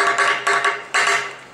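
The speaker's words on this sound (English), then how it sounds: "what you're hearing is the wire hitting your piece of metal" MIG welding wire sputtering and crackling against a steel workpiece as the arc strikes, three loud, harsh bursts of broadband buzzing crackle with short gaps, close up, no voices.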